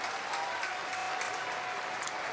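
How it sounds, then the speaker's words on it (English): A baseball stadium crowd in Texas cheers and applauds a big early-game pitch, a broad, fairly distant wash of clapping and crowd roar with no clear voices. "Crowd gets into a big pitch right here early in the game."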